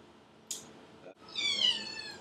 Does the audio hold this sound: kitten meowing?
yes